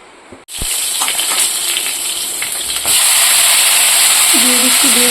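Eggplant pieces dropped into hot oil with nigella seeds, a loud sudden hiss that starts after a brief clatter and grows even stronger partway through, steady sizzling to the end, with faint tonal beeps late on.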